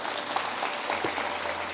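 A church congregation applauds during a sermon, a short burst of steady, moderately faint clapping from many hands without talk.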